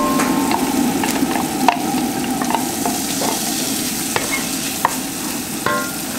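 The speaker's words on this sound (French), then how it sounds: "on commence à ajouter les oignons" Onions fry in butter and oil over medium heat, a dense continuous sizzle punctuated by scattered clicks and scrapes of stirring, close and fairly loud with no talking.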